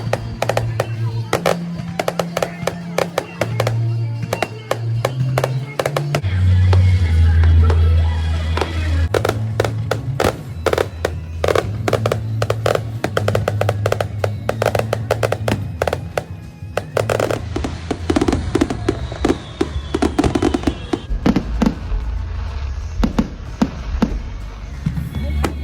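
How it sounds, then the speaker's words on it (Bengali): A fireworks display in the United States, with background music playing throughout and a rapid run of sharp bangs and crackles over it, dense and loud, with a few voices in the crowd. "ব্যাকগ্রাউন্ডে একটা মিউজিক চলছে, তার সাথে সাথেই হচ্ছে ফায়ার ওয়ার্ক"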